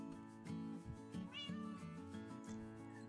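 A pet cat meows over steady background music, the short cries faint and partly buried beneath the rhythmic, tonal accompaniment.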